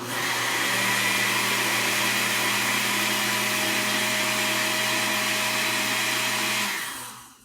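A blender whirs steadily as it mixes garbanzo beans and eggs, a loud, even motor drone running for about seven seconds before spinning down and stopping.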